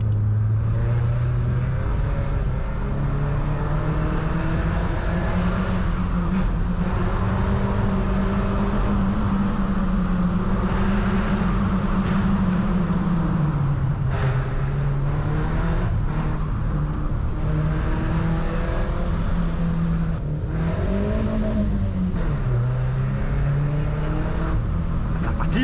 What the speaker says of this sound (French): On est là pour écouter le son du moteur.